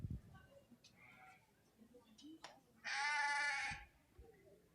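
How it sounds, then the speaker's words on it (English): A hair sheep at a youth livestock show ring gives one loud, wavering bleat lasting about a second, heard close against faint background chatter and arena noise. "Hair Sheep entering the ring"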